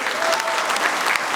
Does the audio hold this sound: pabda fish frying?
no